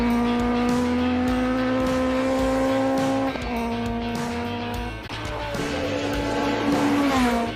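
A V8 Shelby Cobra Daytona Coupe race car screams up a hill-climb course. Its loud, close engine note rises steadily and drops briefly at two gear changes before climbing again.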